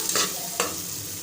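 Green chillies and onions frying in a pan, a steady close sizzle with two short bursts of stirring or scraping, no voices.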